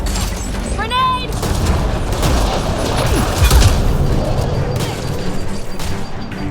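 Combat in the video game Mass Effect Andromeda: a grenade goes off amid heavy gunfire, with dense loud bursts, booms and crashes and voices shouting over the noise.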